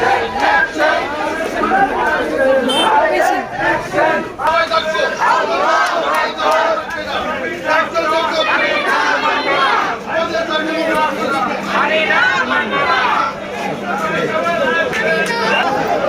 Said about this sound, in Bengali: বিভিন্ন জায়গা থেকে মিছিল আসতেছে